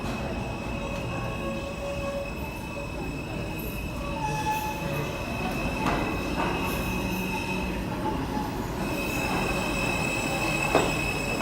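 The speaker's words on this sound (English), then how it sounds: "This is a Manhattan-bound Next Express train." A New York City subway express train runs along the track with a steady rumble and clatter, while high metallic wheel squeals rise and fade repeatedly over it, loud and close from inside the car.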